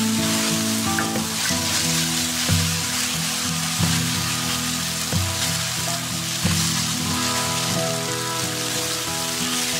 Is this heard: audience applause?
no